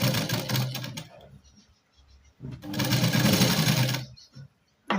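A sewing machine stitches the katori piece of a blouse in two loud close runs separated by a short pause, with a brief restart at the end.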